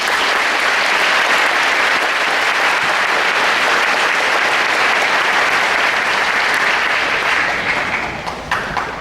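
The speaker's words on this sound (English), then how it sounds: "Please give them a round of applause." Sustained, dense applause from a large audience at a high school graduation ceremony, steady and loud for most of its length before thinning out and tapering near the end.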